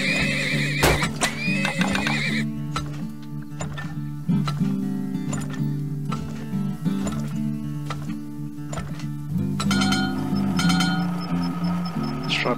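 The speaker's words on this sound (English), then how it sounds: "More horses." Horses neigh repeatedly in the oil-drilling video game Turmoil, loud whinnies rising over steady clip-clop hoofbeats, game music and small clinking effects, with no one talking.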